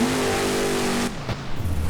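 A monster truck engine revs hard and steadily while spinning a donut on a beach course in the BeamNG game, loud and close, then drops off sharply into lower, uneven engine rumble.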